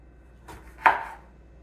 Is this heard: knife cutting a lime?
yes